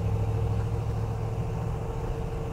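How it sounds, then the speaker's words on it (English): A 1974 Ford Bronco's V8 idles steadily with a low, even rumble and a faint regular pulse, moderately quiet and heard alone without talk. "I'd much rather listen to that V8 purr."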